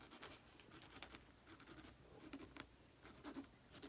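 A pencil traces around a pair of scissors laid on material, giving a soft, continuous scratching and rubbing of graphite on the surface. It is close and quiet, in short repeated strokes.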